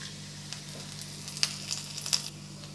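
Steady sizzle of panch phoron whole spices frying in hot oil, with a few sharp crackles and pops, close and moderately loud, no talking.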